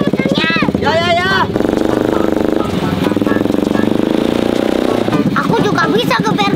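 Motorcycle engines rev loudly at a street drag gathering, a continuous buzzing, pulsing roar that rises and falls, close by and mixed with excited voices talking and shouting.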